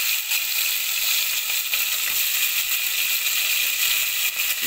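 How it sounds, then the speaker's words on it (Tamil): Onions fry in hot oil for a mutton soup, giving a loud, continuous, close sizzle with faint stirring crackles and no talk. "எடுத்து வச்ச வெங்காயத்தை நம்ம இப்போ எண்ணெயில் போட்டுடலாம்"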